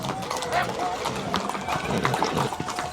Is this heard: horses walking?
yes